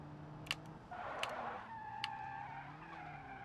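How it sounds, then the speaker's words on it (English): A car in the BeamNG driving game slides under the handbrake, giving a sustained tire skid with engine tones shifting in pitch, broken by a few sharp clicks. "I should have waited to hit the handbrake."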